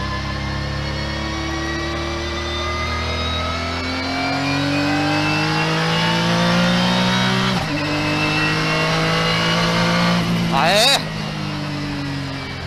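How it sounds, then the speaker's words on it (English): A Honda NSX Type S with turbo accelerates hard, engine note rising steadily in pitch through the gears with a brief shift break, loud and close, while people talk over it. "NSX ターボだよ。"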